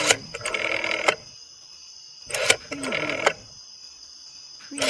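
A telephone rings on a call to the police department, with two loud bursts of ringing separated by a silent gap and a third beginning at the end.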